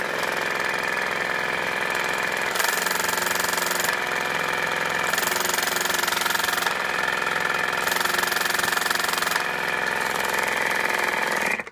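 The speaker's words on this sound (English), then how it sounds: "let's go ahead and do the same on the Waterpik, see how noisy this one is" A Waterpik water flosser runs on its highest setting, a loud, steady motorized drone with a pulsing rattle that swells and eases in regular surges, heard up close with no talking.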